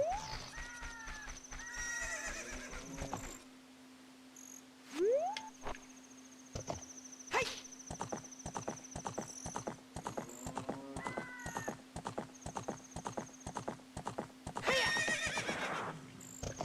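A horse ridden in a Zelda video game, rendered as rhythmic clip-clop hoofbeats in steady runs, broken by several loud neighs and whinnies, all synthetic and fairly quiet overall, with no talking.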